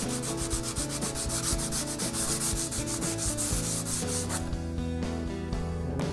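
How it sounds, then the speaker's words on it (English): Worn sandpaper lightly rubbed over burrs on a steel welding table, a quick run of rhythmic back-and-forth scrubbing strokes, close and clear, then a softer, smoother stretch near the end, no voices. "I'll take a little bit of degreaser and some worn out sandpaper and just really lightly hit that area just to take those burrs back down"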